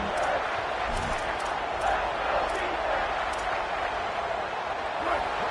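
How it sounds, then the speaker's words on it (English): A football stadium crowd roars as it rises and cheers for its defense, a broad, steady wash of distant noise with a voice talking over it. "This crowd rising up, sensing that its defense needs some help."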